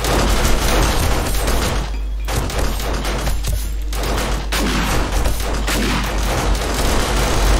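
Automatic turret firing during a Blood Moon horde night in 7 Days To Die, dense rapid gunfire mixed with booms and thuds, loud and nearly continuous with brief lulls.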